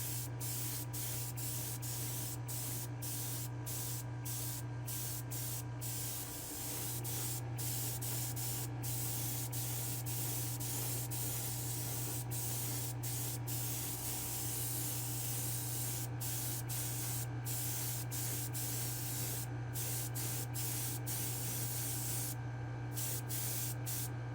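A spray gun hisses almost continuously at close range in a spray booth, painting blue onto a car, with brief gaps in the spray over a steady mechanical hum.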